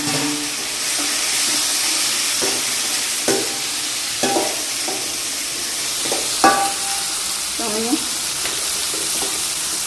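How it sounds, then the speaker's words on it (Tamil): Chopped onion and tomato sizzle loudly in a hot pan with a constant hiss, broken by scattered scrapes and knocks of stirring. "இப்போ வந்து ஆனியன், தக்காளி தள்ளிடுங்க."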